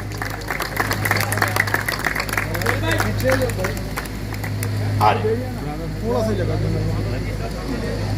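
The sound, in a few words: audience applause for Maqsood sahib at inauguration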